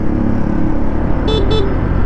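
Two short horn toots from a Honda Click V3 motor scooter, close by, sounding over steady engine and road noise.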